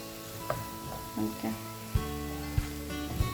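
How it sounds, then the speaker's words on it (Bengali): Noodles sizzle in a pan in a home kitchen in France, a faint frying hiss broken by a few sharp utensil knocks, beneath background music. "একটু বিকালের নাস্তা নুডলস তৈরি করলাম।"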